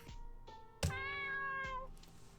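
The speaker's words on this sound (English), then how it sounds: "We have the cat sound" Cat meowing in a video game: a single clear, loud, drawn-out meow with a tonal, harmonic voice, framed by a few soft thuds, no talking.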